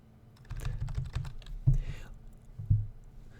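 Keystrokes on a computer keyboard while entering an Excel formula, a quick run of soft clicks followed by two louder, heavier key presses, close and alone without talk.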